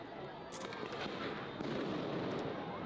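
A flashbang grenade goes off once with a sharp, loud crack at a street protest, followed by a sustained rumbling wash of crowd and street noise.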